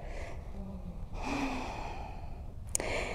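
Slow, breathy exhale during a yoga flow while pushing the hips up, a soft airy whoosh rising from near silence and lasting about a second and a half, followed by a sharp brief click.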